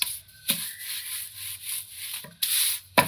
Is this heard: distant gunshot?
no